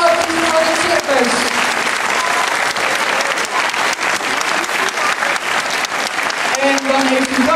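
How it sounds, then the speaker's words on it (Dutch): A circus audience applauding the performers in loud, sustained clapping that fills the whole stretch, with a voice talking over it at the start and end. "En die verdienen ook een ontzettend hard applaus."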